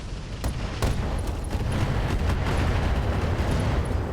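Mech weapons in RogueTech BattleTech, a video game, fire together in a dense, loud volley, a continuous roar of blasts and booms with a few sharper cracks near the start.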